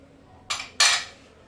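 Spoon scraping cocoa into cookie dough in a bowl, two quick close metallic scrapes and knocks against the bowl in a quiet room.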